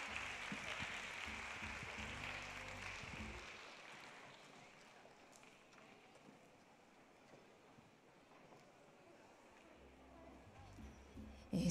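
Audience applause at a Tahitian dance studio recital fills the opening seconds with loud, dense clapping, then thins and fades to a quiet room murmur before a sudden bump at the end.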